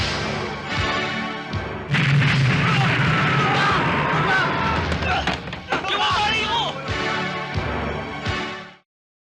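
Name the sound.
explosions in a film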